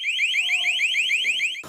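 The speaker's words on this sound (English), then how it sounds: "they'll be put inside these Narcan boxes soon to sound an alarm whenever someone reaches to use the life-saving drug" An alarm on a Narcan box sounds as a loud electronic warble, rapid rising sweeps repeating evenly about eight times a second, close and steady, then cut off abruptly by a brief thump.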